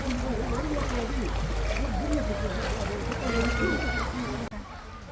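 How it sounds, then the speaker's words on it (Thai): A waterfall and stream rush in a constant, dense wash of flowing water, while several people chat and call out loudly over it. "พี่น้องไปมาเที่ยวน้ำตก"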